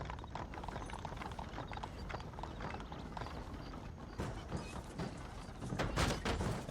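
Horses clip-clopping on a street in the video game Red Dead Redemption, a busy run of hoof beats over a low, rumbling game soundscape, with a few sharper knocks near the end.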